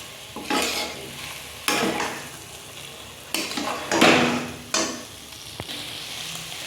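Potatoes for aloo dum fry with spices in a pan, loud bursts of sizzling and scraping stirs arriving in several separate strokes between quieter hissing stretches, with a brief clink of utensil on metal; no talking.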